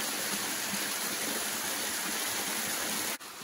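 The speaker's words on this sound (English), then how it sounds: "And the creek." Creek water rushing steadily nearby, a continuous broadband wash that drops suddenly quieter near the end, with no talking.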